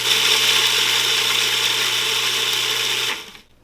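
A blender grinding ingredients for vegan, gluten-free wedding cake cookies gives a loud, steady high whirring drone at close range for about three seconds, then abruptly winds down and stops.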